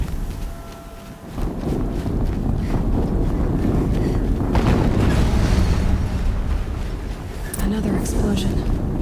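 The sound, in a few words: another explosion in the video game Horizon Zero Dawn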